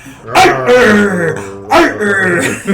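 A human voice imitates a dog growling and barking, giving two loud, rough, throaty bursts close to the microphone, each a short snarl that trails into a gravelly rumble.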